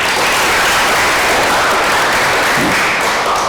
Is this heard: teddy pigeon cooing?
no